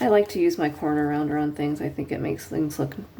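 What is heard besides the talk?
None of the usual background noises is heard.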